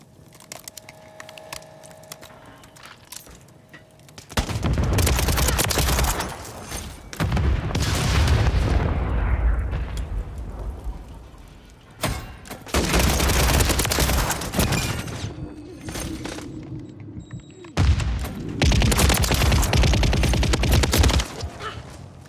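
Bursts of automatic gunfire and explosions in a Call of Duty Modern Warfare 3 Domination match on Satan's Quarry, loud sustained volleys in several long stretches separated by brief lulls.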